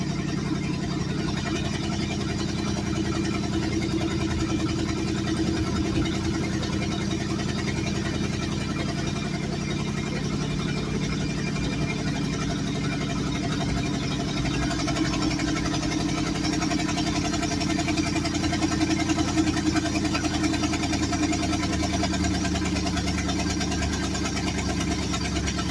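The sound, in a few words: car engine idling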